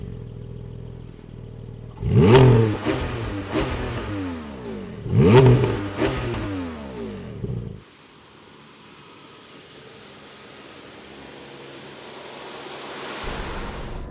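Porsche 718 GT4 with PDK gearbox pulling hard through two rising engine sweeps with quick upshifts, loud and close, then a drop to a quieter, steadier cruising drone.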